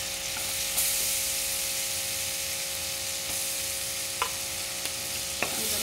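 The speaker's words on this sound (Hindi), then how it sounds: "गोल्डन ब्राउन जावपाचो तें फ्राय करता." Chopped garlic fries in a pan, giving a dense continuous sizzling hiss that stays fairly loud throughout, with a few faint taps of a utensil now and then.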